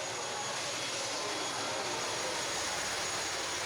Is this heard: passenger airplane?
yes